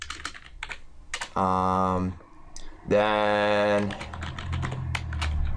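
Bursts of keystrokes on a computer keyboard while Java code is typed, clicking in short runs between two spans of sustained tonal sound and other noise, with a single spoken word.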